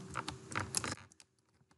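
Rapid keystrokes on a computer keyboard while a search term is typed into a Google search box, a quick cluster of close, light clicks that trails off into a few sparse taps.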